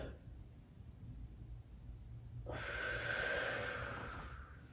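A long, audible exhalation through the nose and mouth during a stomach vacuum exercise, a steady breathy rush lasting about two seconds and fading at the end, close to the microphone with no talking.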